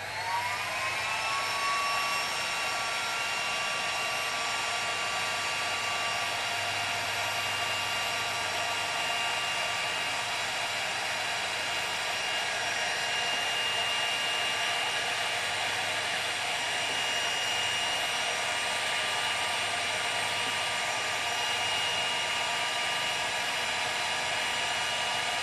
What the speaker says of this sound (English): ready to heat shrink it.